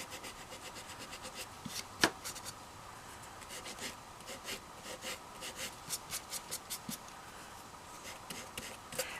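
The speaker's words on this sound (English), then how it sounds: "And just sand it a little bit more." Sandpaper rubs a doll in quick, soft back-and-forth strokes, close and fairly quiet, in short rhythmic bursts with a brief sharper scrape near the start.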